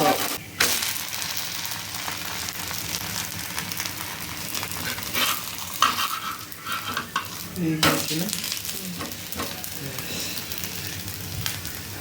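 Pitha cakes frying in hot oil for Poush Sankranti, a steady close sizzle with occasional utensil clinks and scrapes as the cakes are stirred and turned.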